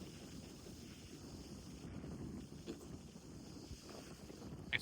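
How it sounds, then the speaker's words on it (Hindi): Strong wind blows steadily outdoors, a constant low rushing roar with buffeting against the microphone, faint overall and with no talk. "आज ही हवा चलानी है। देखो कितनी तेज चल रही है"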